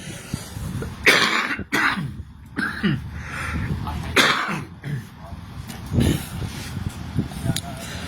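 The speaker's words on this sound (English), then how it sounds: "Excuse me, here's this cough again." Several harsh coughs break out close by, scattered across the stretch with rough throaty sounds between them.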